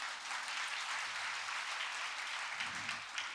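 A church congregation at a Sunday service claps for God, a steady, even patter of many hands at moderate loudness that carries on without a break, with a brief low murmur of voices near the end.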